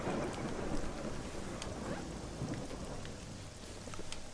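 Steady heavy rain of a thunderstorm with rumbling thunder in the survival video game How To Survive, a continuous dense wash with low rolling booms and no voices.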